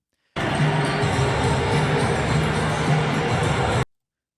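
A big stadium crowd boos loudly and steadily, a thick unbroken mass of jeering voices lasting a few seconds before stopping sharply.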